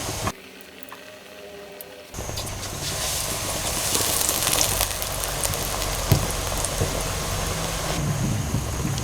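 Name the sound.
spinach pakora frying in oil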